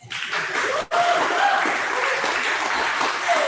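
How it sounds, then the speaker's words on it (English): An audience at a political organizing meeting in Ottawa-Centre breaks into sustained applause. Clapping starts almost at once, dips for a moment, then carries on thick and even, with faint chuckles mixed in. "So everyone should give each other a round of applause."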